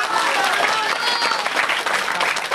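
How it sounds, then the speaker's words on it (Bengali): Students at a school celebration clap for their teachers: dense, steady applause fills the room throughout, close and loud, with a crowd murmur beneath. "এই স্যারদের জন্য সবাই এটা জোরে হাত তালি দাও।"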